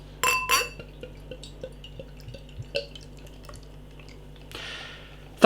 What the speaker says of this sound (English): Let's get the beer out into a glass,